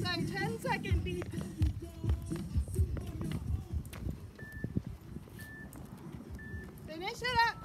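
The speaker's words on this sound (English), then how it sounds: "That's our 10-second beep." A workout interval timer sounds a 10-second warning as three short, evenly spaced electronic beeps, faint and mid-pitched, over a trainer's ongoing coaching talk and footsteps in a home exercise session.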